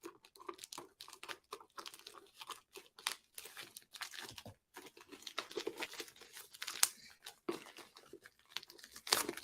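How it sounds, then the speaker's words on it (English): Plastic packaging on a Transformers toy being cut open, a close run of crinkling, crunching and tearing sounds in irregular bursts with brief gaps, alone without talk. "I'm cutting the plastic right now"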